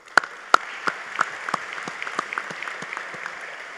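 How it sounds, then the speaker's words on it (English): Scattered audience clapping at a university commencement ceremony, starting with a few sharp, close claps and settling into a thin, steady patter of applause from a modest crowd. "So a big round of applause for them, please."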